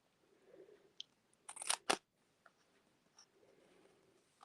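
Scissors snip through black foam dimensionals in a quiet room, a cluster of crisp crunchy cuts followed by one sharp close snip, then a few faint clicks and soft rustling.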